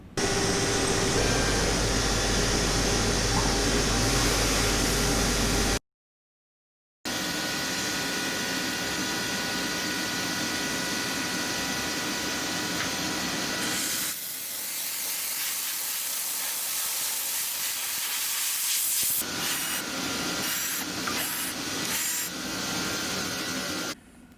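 A CNC machine mills knife backspacers with a 4-flute carbide end mill, giving a loud, steady grinding rasp that breaks off briefly, resumes, then thins to a quieter whir with scattered cutting bursts toward the end.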